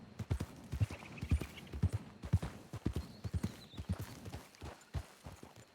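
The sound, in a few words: horse hooves clip-clopping in a video game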